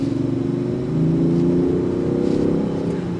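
Range Rover Sport SE mild-hybrid engine accelerating with turbo lag, a steady mid-pitched drone that rises gradually in pitch and loudness as revs climb, heard from inside the car without talking.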